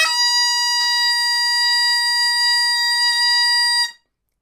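A Campbell tunable bagpipe chanter holds a single bright, reedy high A with its tuning flattened all the way, one loud sustained note with a buzzy, harmonic-rich tone that cuts off abruptly near the end.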